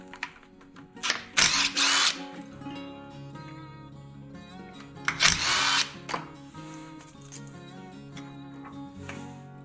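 A power drill runs on small 6mm hub bolts of a Nissan Xterra front hub in two loud bursts of a few seconds each, separated by quieter mechanical clicks and tool handling.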